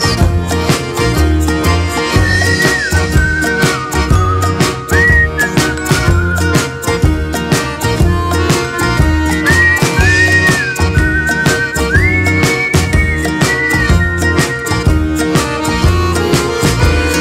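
Soft whistled melody in a song, drifting in short phrases over a steady, full band accompaniment.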